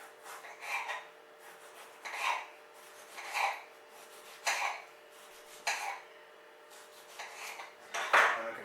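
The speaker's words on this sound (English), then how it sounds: "We're going to slice." A knife slices finely through food on a cutting board for a dehydrator tray, about seven or eight separate rasping strokes at a steady unhurried pace, close and fairly quiet with no talking.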